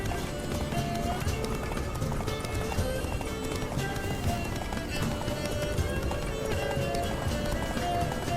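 Roach, a horse in The Witcher 3: Wild Hunt, gallops steadily and close by. The hoofbeats form a continuous, even rhythm of loud clip-clops that runs unbroken through the whole stretch.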